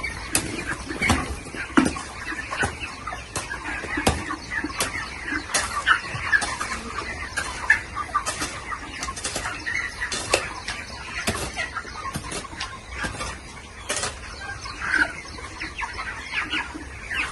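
A large flock of chickens clucking inside a poultry farm shed, a dense, continuous chorus of overlapping clucks and squawks at moderate distance, with occasional brief wing flaps.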